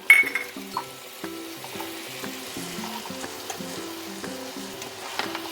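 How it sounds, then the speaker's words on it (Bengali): Cumin seeds in a little water sizzle softly in a pan while being stirred, with occasional light clinks. A steady tonal melody plays alongside. "হালকা জিরেটাকে একটু নাড়িয়ে নেব"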